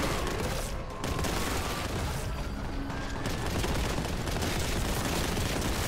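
Dense gunfire fills a Warhammer 40,000: Boltgun firefight: a steady, loud barrage of overlapping shots and booms with no pause, heavy and continuous from start to end.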